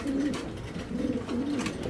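Giribaz pigeons, a pair kept on a farm, coo in repeated low rolling phrases, three clear bouts close by with steady background hiss and no talking.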